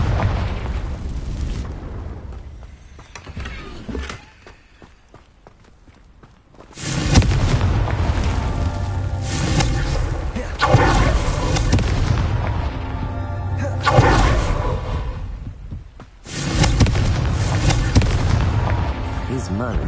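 Heavy booming blasts from the Confringo spell in the video game Hogwarts Legacy roar in several long, loud bursts separated by short quiet gaps, with ruins crumbling amid the rumble.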